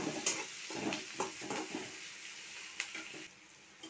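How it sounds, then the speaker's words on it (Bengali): Chopped green chillies fry in a pan with onions, a soft sizzle broken by scattered stirring clinks and scrapes, quiet and close, with no talking. "এখন আমি এই যে একটু কাঁচা লঙ্কা কুচিয়ে দিয়ে দিচ্ছি। দিয়ে এটা ভালো করে ভেজে নেব।"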